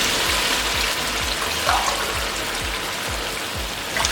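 Water poured into a cooking pot of sautéed rice and chana for pulao: a steady loud splashing rush that continues throughout.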